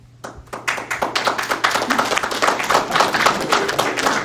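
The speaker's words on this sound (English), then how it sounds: "People don't usually clap" Meeting attendees break into applause, a dense run of many hands clapping at close range that builds quickly after a quiet start and continues steadily to the end.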